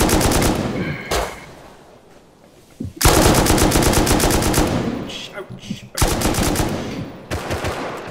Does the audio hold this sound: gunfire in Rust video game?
yes